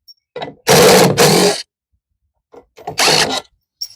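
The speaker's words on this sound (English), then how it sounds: "You want to take your 10 millimeter nut driver and remove these 6 screws right here" Power nut driver spinning out screws on an LG washer with a Hall sensor fault, three short whirring bursts with pauses between, close and fairly loud.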